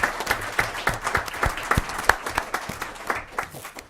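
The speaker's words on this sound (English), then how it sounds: "we give a big round of applause." An audience at a Murray City council meeting gives a long-serving employee a round of applause, a moderate-sized room of clapping with distinct individual claps that taper off near the end.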